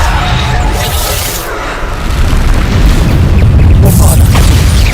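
Bombarda exploding spell detonating in Hogwarts Legacy: a heavy, loud boom that rumbles continuously across the stretch, swelling in the second half with dense low-end blast noise.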